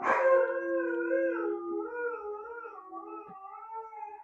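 A dog howls close by in response to passing sirens, a long, wavering, drawn-out tone, with another dog joining, no talk over it.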